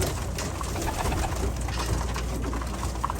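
Racing pigeons coo in a loft, with soft, repeated throaty calls over a dense, continuous rustling background that stays at an even level throughout.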